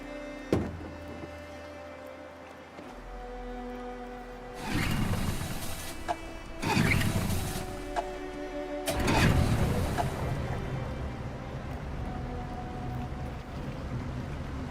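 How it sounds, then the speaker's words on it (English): A boat engine from Detroit: Become Human rumbles low and steady, swelling into three loud roaring surges partway through over a sustained tonal musical bed, with no talking. "We're far enough out. We can use the engine."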